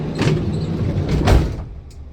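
A sliding side door on a 2019 Mercedes Sprinter van rolls and shuts, with a couple of loud thuds around the middle and a quieter knock near the end, heard up close inside the vehicle.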